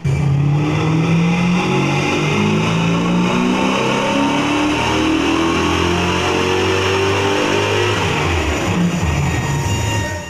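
A 5.0 Mustang with a 302 EFI 331 stroker revving hard on a dyno, the engine note climbing steadily in pitch under full load, loud and continuous throughout.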